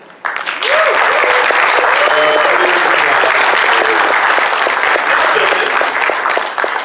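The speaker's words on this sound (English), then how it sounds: "how about a big hand of applause, round of applause" Loud, close applause from a charity event crowd for the mechanics, bursting in abruptly and holding as dense, sustained clapping, with a voice calling out over it.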